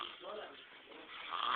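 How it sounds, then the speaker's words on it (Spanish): A small child snores softly in a short, steady breathy rasp, close and faint, rising slightly toward the end. "Qué rico ronca."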